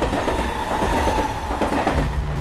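A train runs along the rails in Mumbai, a loud, steady rumble with rhythmic wheel clatter and a faint squeal, close by and with no voices.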